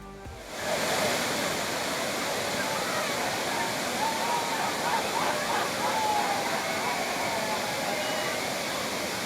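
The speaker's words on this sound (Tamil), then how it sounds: "மெயின் அருவியில் தண்ணீர் வரத்து ஆர்ப்பரித்து கொட்டும் நிலையில் சுற்றுலா பயணிகள் உற்சாக குளியல்" Water pours heavily down the main falls at Courtallam, a loud, unbroken roar that swells in within the first second and then holds steady, with faint voices of bathers mixed into the rush.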